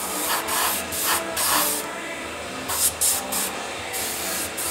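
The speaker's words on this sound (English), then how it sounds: "you can see I'm spraying at an angle" A spray gun sprays paint onto a reproduction walleye fish head, producing loud, close hissing bursts that start and stop in several short passes over a constant background hiss.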